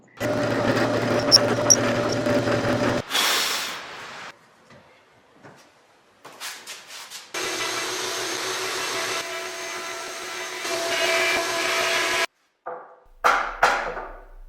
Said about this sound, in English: I'm going to take the drill press and try to set it up